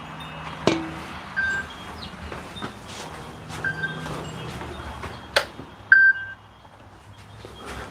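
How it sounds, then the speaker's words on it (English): An oven timer alarm gives three short, faint electronic beeps spaced a couple of seconds apart, heard over quiet kitchen room noise with a few soft clinks. "that was the alarm for the oven"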